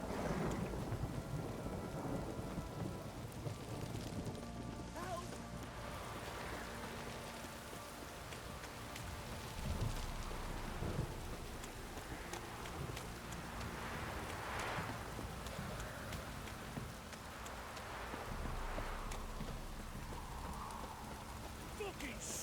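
Steady rain and rolling thunder in The Witcher 3 form a continuous wash of downpour with low rumbles swelling and fading, while a voice speaks intermittently over the storm.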